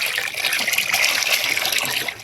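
Onion, garlic and buttermilk fertilizer solution poured out of a cup onto a plant, a loud continuous splashing gush of liquid close by, steady for its whole length with no voices.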